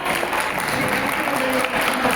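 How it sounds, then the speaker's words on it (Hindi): Sustained applause from an audience at a meritorious students' felicitation ceremony in Hirapura, Jaipur, a steady dense wash of clapping that fills the whole stretch without letting up. "एक बार जोरदार तालियां बजाने"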